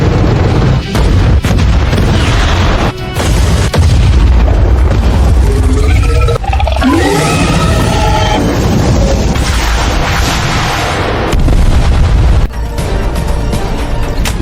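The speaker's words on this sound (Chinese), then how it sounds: "坦克连队，穿甲弹发射！" A tank company fires armor-piercing shells in a sustained, loud barrage of booming explosions and blasts, with heavy rumbling that runs almost without a break throughout.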